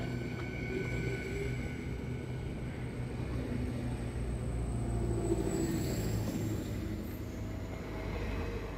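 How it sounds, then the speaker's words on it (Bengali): A long train pulls away from a mountaintop station near Lake Bled, Slovenia, giving a steady low rumble that swells slightly midway and carries on evenly throughout, with no talk. "ট্রেনটা চলে যাচ্ছে।"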